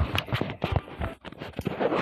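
Horse in a video game, rapid clip-clop hoofbeats in an uneven galloping rhythm, close and fairly loud, with no voices over them.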